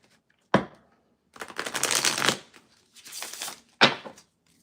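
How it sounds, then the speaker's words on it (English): Tarot cards are shuffled up close: a sharp tap, a long riffling burst, a shorter second riffle, then another crisp tap against a surface. "I'll do one more shuffle, and then we're going to begin."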